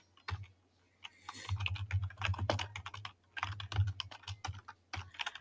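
Bursts of rapid typing on a computer keyboard with short pauses between, close and crisp, entering lines of HTML code.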